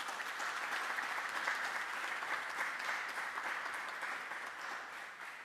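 Steady applause from members of a parliament at a signing ceremony, a moderately faint, even patter of clapping from a seated assembly lasting several seconds with no voices.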